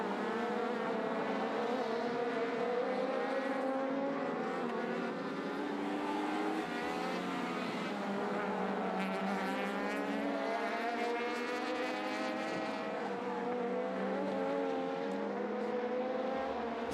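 Race cars battling closely at Magny-Cours, a dense layered drone of several engines revving and changing gear together, steady and loud throughout with rising and falling pitch lines.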